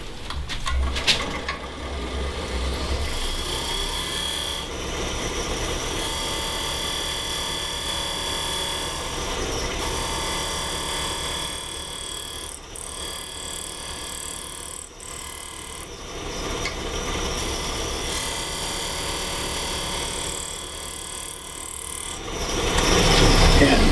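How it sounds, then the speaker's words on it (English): A square carbide tool cuts maple burl spinning on a wood lathe, producing a steady, close scraping whir with a low motor hum that holds for the whole stretch and swells slightly near the end. "use the square carbide and get right in there and"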